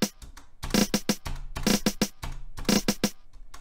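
A beat built in FL Studio for a song remake plays punchy drums and synth hits, with quick groups of three rapid notes landing in a bouncy repeating rhythm, loud and close.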